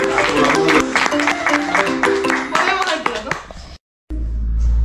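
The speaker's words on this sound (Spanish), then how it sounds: "Un aplauso para..." Close, rhythmic hand clapping from a small audience, including children, at a school news broadcast in the Canary Islands, with voices mixed in, then a brief dropout and a cut to a different scene.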